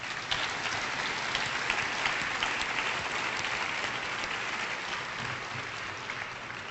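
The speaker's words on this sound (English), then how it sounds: "please give her a round of applause" Audience at an evening speaking event honoring an absent woman breaks into a round of applause, a dense, even crowd clapping sustained at moderate volume from start to finish.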